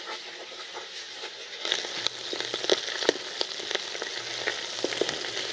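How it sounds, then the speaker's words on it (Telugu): Ginger garlic paste fried with onion and green chilies in a pan for a fish roe fry, giving a continuous crackling sizzle that grows busier halfway through, with scattered pops and stirring scrapes. "ఇది కూడా వేసి పచ్చివాసన పోయేదాకా వేపుకుందాం అండి"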